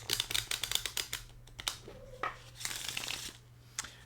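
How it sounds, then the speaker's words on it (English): A deck of papery Ducale 54-card cartomancy cards is shuffled close up, giving rapid, crisp riffling snaps in quick bursts with short pauses between, with no talk. "So let's see how this shuffles."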